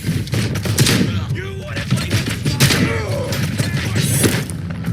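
Shooting in the video game RoboCop: Rogue City: dense, loud volleys of rapid gunfire with booming impacts, continuous throughout alongside shouted voices.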